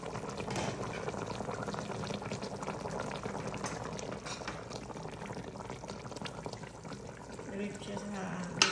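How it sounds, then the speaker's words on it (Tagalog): Chicken simmering in a pot of water, a steady bubbling boil that runs continuously and fairly close throughout, with faint background voices underneath. "add ko na rin siya ng water at pakukuluan ko siya ng half hour"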